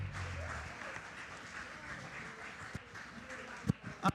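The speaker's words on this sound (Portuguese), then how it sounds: "Oh, aleluia, aplaude ao Senhor." A church congregation claps through a worship service, producing a steady, moderate wash of applause with a few sharper claps near the end.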